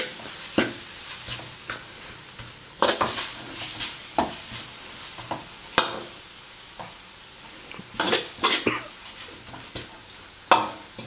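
Catfish curry with fingerroot is stir-fried in a pan, with a steady sizzle under repeated scraping strokes of a utensil, close and without talking.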